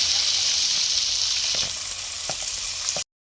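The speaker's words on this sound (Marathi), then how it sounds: "कांदा टाकून घेऊन कांदा परतून घेणार आहोत." Onion sautéing in a pan with curry leaves and garlic paste for a tomato chutney: a close, steady bright sizzle with a few soft stirring knocks, cutting off abruptly after three seconds.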